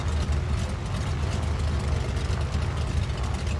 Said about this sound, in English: listen to the sputtering of these Pratt & Whitneys